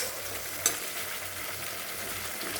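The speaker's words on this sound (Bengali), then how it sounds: "তো মশলাটা ভালো করে ভাজা হোক" Spice paste frying in a pan for a cauliflower and katla fish curry, a steady hiss of sizzling with one brief clink of a stirring utensil, close and continuous with no talk.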